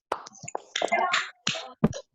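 Sharp claps from an audience of new teachers at a school training session in Lampung, joining a call-and-response clapping game: several loud, close bursts of hand claps in short groups separated by brief pauses.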